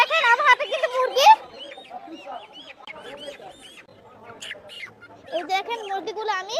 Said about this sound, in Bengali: এই দেখেন আমার হাতে কিন্তু মুরগি